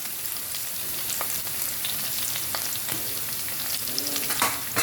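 Chicken pieces with crushed ginger, curry leaves and slit green chillies for chicken chukka fry steadily in a pan, a continuous close sizzle broken by scraping stirs and occasional pops.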